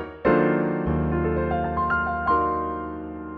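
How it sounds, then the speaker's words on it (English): A piano plays a minor major 7 chord with 9, sharp 11 and 13, with a low bass note struck first, upper notes added one by one, and the voicing restruck near the end, ringing clearly and alone. "this is the sound of a minor major 7 chord"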